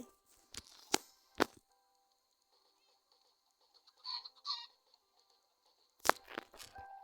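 A few short bursts of Minecraft chicken clucking, separated by quiet gaps, with crunchy clicks at the start and end.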